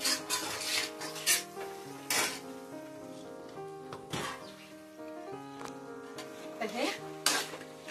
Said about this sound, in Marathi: परतून घेतो थोडंसं